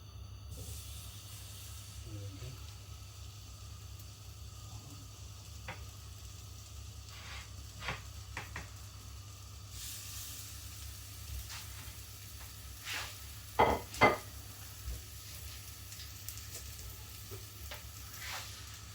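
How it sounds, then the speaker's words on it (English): Low steady sizzle of coated beef short ribs frying in a pan, with occasional stirring clinks and a couple of sharper pops partway through. "So that's starting to sizzle a bit."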